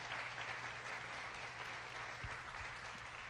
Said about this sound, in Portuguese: Pode aplaudir, se for para Jesus, você pode aplaudir.